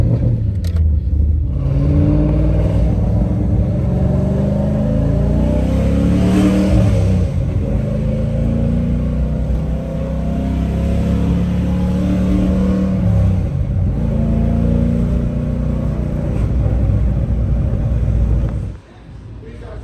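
A Chevrolet Camaro engine rumbles and revs, the pitch rising and falling in a few surges over a deep, steady idle before cutting off abruptly near the end, with voices faintly present.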